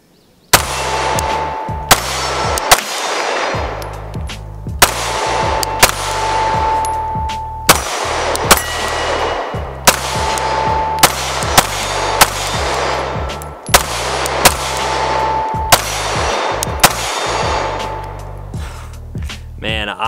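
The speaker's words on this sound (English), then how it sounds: "Man, I miss shooting at steel like this." Glock 19 pistol shots ringing off steel targets, a steady string of sharp reports each followed by a bright metallic ping, close and loud across the whole stretch with short pauses between strings.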